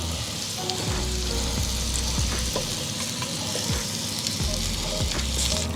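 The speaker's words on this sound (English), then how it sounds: "now it's just time for us to go ahead and put our chops in. Right? So what we want to do is we just want to sear them" Pork chops sear in a preheated cast iron pan over a medium flame, giving a loud, continuous close sizzle with scattered pops and scrapes.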